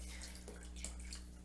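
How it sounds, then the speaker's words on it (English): Filtered water from a Berkey filter pours into a bowl in a soft, continuous trickle with faint splashes, quiet under a steady low background hum. "I'm going to put some Berkey water in here."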